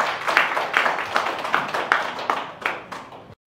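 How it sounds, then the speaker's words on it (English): Audience at a live business interview event claps in a short round of applause, a rhythmic patter of hands that swells briefly, then stops abruptly. "give them a round of applause"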